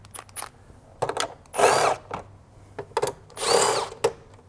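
A power tool removing 10mm bolts and nuts from plastic engine covers on an E53 BMW X5 with the M54 engine, two loud close whirring bursts with clicks and clatter between them.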